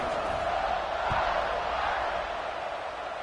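Large stadium crowd at a Notre Dame college football kickoff, a broad continuous roar of cheering and whooping that swells slightly then eases, steady and distant-sounding with no clear voices standing out.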